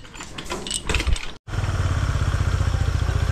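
Small motorcycle engine with a fault, sputtering and clattering unevenly, then cutting out briefly before catching again into a steady, close chugging idle.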